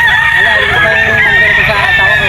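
A rooster crows loudly and close by at a pet market, one sustained harmonic call that fills the short moment.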